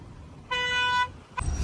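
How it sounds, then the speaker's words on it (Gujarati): A single loud, steady vehicle horn blast sounds for about half a second, followed by a brief second toot, close by with no talk over it. "આ ભાઈ હોરન વગાડો તો"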